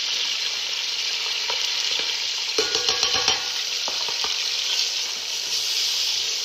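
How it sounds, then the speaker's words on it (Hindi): Onions fry with spices for mutton qeema, a dense steady sizzle broken by a run of spoon scrapes and taps in the middle, heard close with no speech. "अब हम इस प्याज को थोड़ा फ्राई करेंगे, जब तक इसका एक थोड़ा सा गोल्डन सा कलर आने लगे।"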